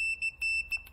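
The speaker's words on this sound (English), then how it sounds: "if you touch together those probes, you can hear a beep" Short, high electronic beeps from a multimeter continuity test as its probes touch chirp several times in quick succession, close and clear against near silence.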